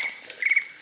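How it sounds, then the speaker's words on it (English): Crickets chirp in a steady, shrill trill, a pulsing insect chorus that swells briefly partway through, with no voices. "crickets"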